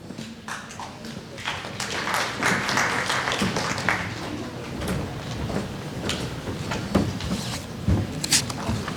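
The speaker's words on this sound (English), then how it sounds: "About 15 minutes ago, I bet the clapping would have been a bit louder." An audience at an education convention applauds, with scattered, moderately loud clapping that continues steadily for several seconds in a large room.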